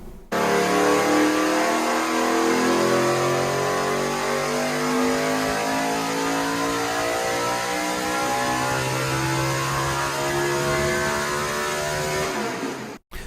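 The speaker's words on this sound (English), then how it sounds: "That's the sound of a Gen 4 NASCAR stock car" A Gen 4 NASCAR stock car engine revs loud and close, a steady, powerful roar whose pitch climbs and holds for the full stretch with no voices.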